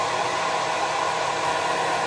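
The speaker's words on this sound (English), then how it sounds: "I'm using the blow dryer to curl my lashes up. It's a low setting, medium heat" A hair dryer runs on a low setting with medium heat, a steady, even whoosh of blowing air held close and continuous with no voices.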